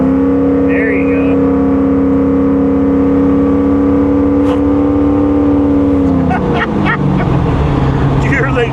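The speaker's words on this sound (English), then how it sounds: "Did you hear the exhaust off of that car?" A Monte Carlo SS engine drones steadily and loudly, then its exhaust roars harder as the car accelerates near the end, with voices briefly heard over it.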